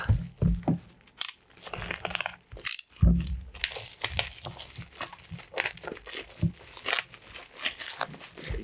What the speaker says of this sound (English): let's go on with opening the package.